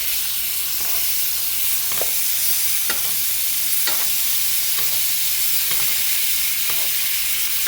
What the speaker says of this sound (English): And then we're going to start basting